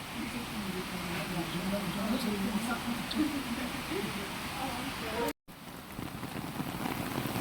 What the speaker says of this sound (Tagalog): Kasi ayaw tumigil ng ulan.